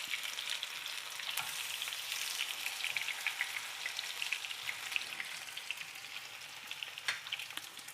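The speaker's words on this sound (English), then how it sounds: "I can see my Rosti already cooking" Grated potato rösti frying in a pan, giving a steady, close crackling sizzle with small pops throughout and no voices.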